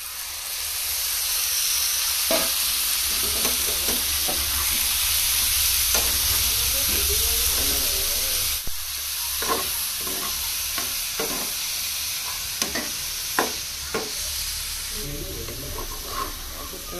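Eri silkworms (endi) stir-fried Assamese style in a pan, with a steady close sizzle and hiss throughout and repeated scraping, clattering stirs of a spatula, louder toward the end.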